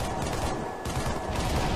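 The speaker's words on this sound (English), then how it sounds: "our assault rifle is in fact now firing rockets" Rapid burst of gunfire in Halo 3 from an assault rifle modded to launch rockets, a dense, continuous loud barrage with no talking.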